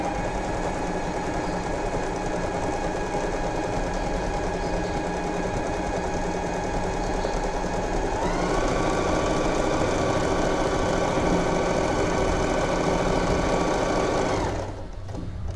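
An Usha Wonder Stitch sewing machine runs steadily, stitching two joined pieces of cloth with a continuous close mechanical whir; its pitch rises partway through and the motor stops abruptly near the end.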